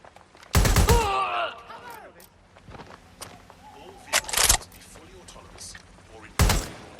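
Gunshots in the Watch Dogs Legion game: a loud close burst early on, then further sharp shots spaced apart, with a voice calling out and quieter street ambience between.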